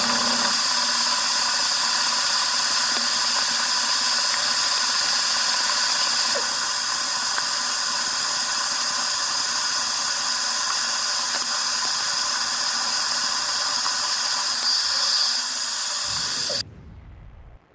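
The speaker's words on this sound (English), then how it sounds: "that 4-flute end mill broke almost as soon as it got into the material" A 4-flute carbide end mill drills into metal at slow speed and feed, a steady loud whine and hiss running for about sixteen seconds before cutting off abruptly as the tool breaks.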